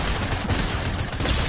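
Rapid gunfire in the Fortnite video game during the Travis event, a dense continuous burst of loud shots filling the whole moment without pause.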